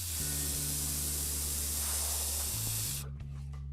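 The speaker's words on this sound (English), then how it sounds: "if I blow in the end of this hose, you'll be able to hear this thing leaking because it's just a straight through air path" Breath blown through a leaking Milton tire inflator hose makes a steady, loud hissing rush of air for about three seconds, then cuts off abruptly, with a low hum underneath.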